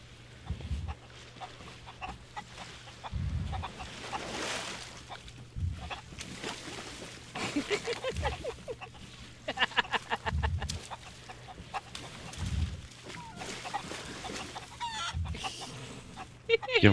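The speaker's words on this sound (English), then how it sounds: "There are chickens on this aisle." Chickens cluck repeatedly in short bursts throughout, nearby, with an occasional louder squawk over a steady background hum.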